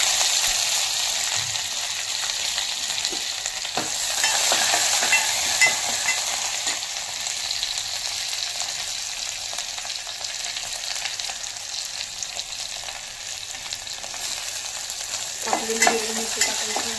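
Cumin and mustard seeds crackle and sizzle steadily in hot oil, with a spoon stirring through them, a dense continuous frying hiss that stays even throughout, alone without talk.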